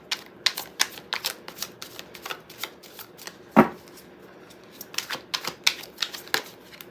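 Tarot cards are shuffled by hand to draw an extra card, making a rapid run of close, crisp riffling flicks with one louder thump midway and no voices.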